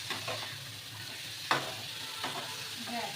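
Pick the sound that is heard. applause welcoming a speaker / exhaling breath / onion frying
onion frying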